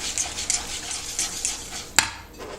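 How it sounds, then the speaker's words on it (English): Whisk beating an egg into brownie batter in a bowl, quick close rhythmic clicks and scrapes against the sides with one sharper knock, fairly quiet, with no talking. "Crack an egg. Whisk it in there."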